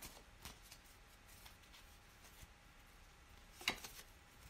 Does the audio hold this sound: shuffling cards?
yes